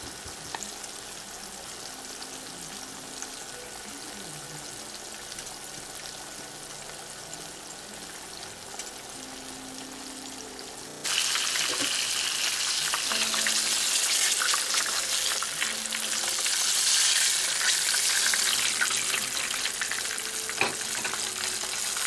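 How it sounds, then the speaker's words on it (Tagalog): Tilapia frying in hot oil as it turns brown and crispy, a continuous close sizzle that jumps sharply louder partway through and stays loud and crackling to the end. "Pantayin po natin maprito mabuti, maluto. Dapat maging brown and crispy po dapat siya."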